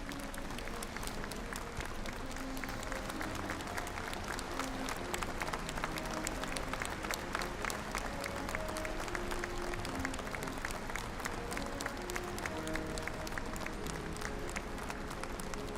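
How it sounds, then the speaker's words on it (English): A large ceremonial crowd in Beijing gives long, rhythmic, unified applause for July 1 Medal recipients, the steady clapping continuing evenly throughout with faint music tones beneath. "warm round of applause."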